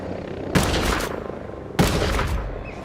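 Gunfire in the tactical shooter Ghost Recon Breakpoint: two heavy, close blasts about a second apart, each with a long rumbling tail. No clear helicopter rotor stands out.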